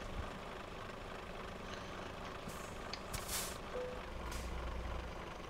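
A heavy truck in Euro Truck Simulator 2 with its engine rumbling low, then a few sharp hissing bursts from the air brake being set near the end.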